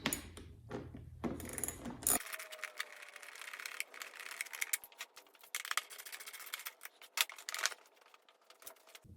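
A T30 Torx driver removes the seat bolts on a 2020 KTM 250SX dirt bike. A brief louder scrape comes first, then irregular close-up ratcheting clicks and small metallic ticks, with no one talking.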